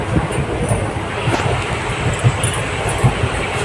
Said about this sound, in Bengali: তো এখন ট্রেনে উঠে পড়েছি